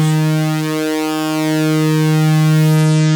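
Ultra Analog VA-3 software synthesizer playing a steady square-wave tone with pulse width modulation, a sustained buzzy note whose harmonics slowly sweep and shimmer, loud and alone for the whole stretch.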